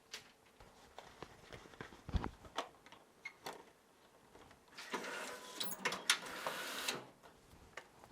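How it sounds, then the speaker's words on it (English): An ultrasonic banding machine bundles sample products, giving a series of sharp mechanical clicks and thumps followed by a louder sustained whirring, buzzing burst of strapping and sealing, then more scattered clicks at moderate distance. "I'm going to now run a couple of samples just to show you how easy the machine is."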